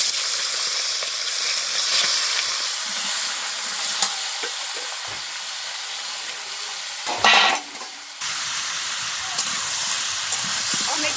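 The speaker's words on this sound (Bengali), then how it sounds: "এই যে আলু দিয়ে মাংস দিয়ে একসঙ্গে আমি কষিয়ে নেব।" Chicken and potatoes sauté with cumin, cardamom and cinnamon in a pan, making a loud, steady sizzle and hiss. A brief louder burst of frying comes near the end.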